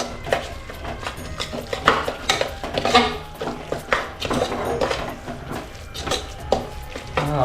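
Chicken biryani masala being stirred and roasted in a pan, a spoon scraping and clanking against the metal in irregular close knocks and scrapes, with no talking.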